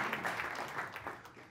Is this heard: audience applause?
yes